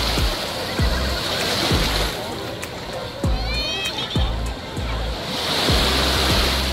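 Surf on Monterosso's Fegina beach in the Cinque Terre in summer: a steady wash of water broken by repeated low thuds of breaking waves, with faint crowd voices underneath.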